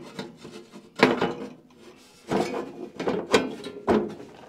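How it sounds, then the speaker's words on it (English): Shelving units snapping into place on a tractor tool storage rack, giving a few sharp knocks and scraping clatters in quick succession, close and fairly loud, with no one talking. "And they only snap right in, and a bolt will go in afterwards."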